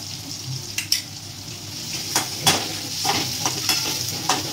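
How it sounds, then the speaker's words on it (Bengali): Onion and tomato pieces fry in butter over a high flame for white sauce pasta, a steady close sizzle broken by several sharp scraping stirs of the pan. "পেঁয়াজ মানে সবজি ভাজা হচ্ছে হাই ফ্লেমে করলে মানে তাড়াতাড়ি হয়"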